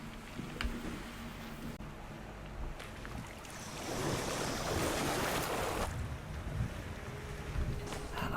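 Water swishes and churns steadily in a Finnish folklore adventure game as a character swims, with a rushing wash that swells in the middle and stays loud to the end.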